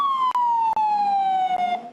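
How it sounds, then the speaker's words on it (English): A loud emergency siren wails in one long, slowly falling tone, close by in New York, with brief clicks breaking through. "The wail of sirens"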